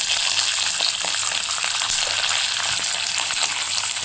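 Curry leaves hitting hot oil give a loud, steady crackling sizzle with rapid pops, close up and continuous for a few seconds, with no voices.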